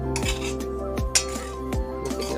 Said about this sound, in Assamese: ভাজি ভাজি ভাজি থাকিব, দেৰি যাব নিদিব, বস্তুটো লৰাই থাকিব লাগিব ন।